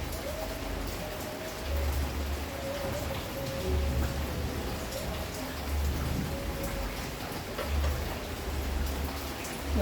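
Heavy rain pours steadily onto a surface close by, a dense continuous hiss with low rumbling swells throughout.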